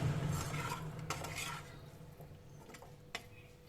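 Pasta made with flour and potato, tossed in a pan with Maggi masala: soft scraping and stirring with a few light utensil clicks, close and fairly quiet, with a faint low hum underneath and no one talking.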